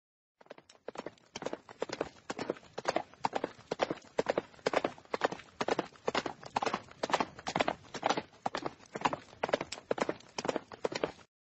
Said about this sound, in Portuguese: eu ouvi barulho de cavalos trotando